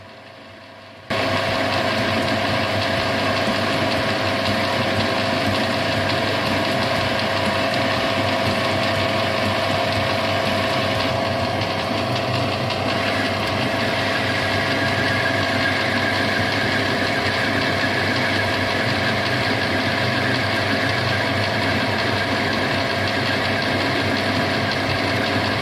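A lathe turns the outside diameter of a part for a hand drill speed reducer, giving a steady, loud mechanical whir and hum with a faint ratcheting texture. It runs continuously for the whole stretch, with no talk.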